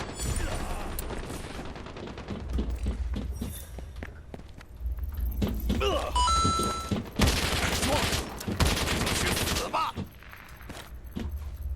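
Gunfire in the shooter game Lost Light crackles in scattered bursts and single shots, loud and close, mixed with footsteps and a voice talking throughout.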